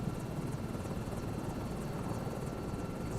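A helicopter in flight in Microsoft Flight Simulator 2024 gives a steady, dense rotor thrum with a constant engine drone, continuous and close, with no talk over it.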